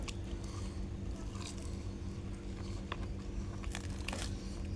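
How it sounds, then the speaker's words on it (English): Someone bites into crunchy home-fried chicken, giving several sharp, close crunches and crackles over a low background hum. "Just chicken crunch."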